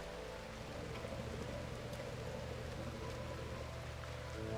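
Steady rain in the RimWorld video game, a continuous even hiss of falling drops and patter on surfaces, holding at a constant moderate level with no voices.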